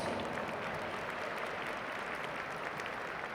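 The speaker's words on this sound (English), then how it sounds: "Give them a round of applause." At a formal dinner event, the audience gives continuous, fairly quiet applause, a steady wash of clapping from a distance with faint crowd murmur.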